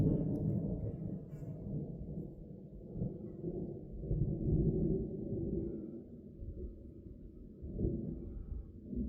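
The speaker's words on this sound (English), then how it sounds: "I heard the thunder overhead as well." Thunder from a storm passing almost overhead at Las Cienegas near Sonoita, Arizona, rolls as a long, low, continuous rumble that swells and fades over several seconds, with no talking.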